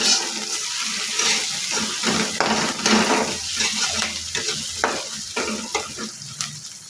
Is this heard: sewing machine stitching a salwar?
no